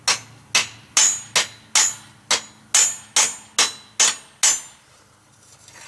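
Ten ringing hammer strikes forging a fireplace shovel head on an anvil at a steady pace, loud and near, followed by a brief quiet tail.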